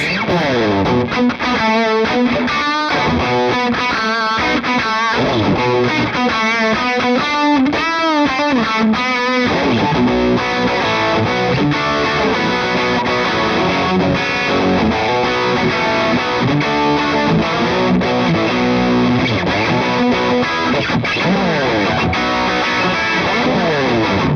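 Bad Cat Ocelot guitar amp with the mid knob turned up gives a loud, distorted electric guitar tone, played continuously as dense strummed chords and riffs with no talking.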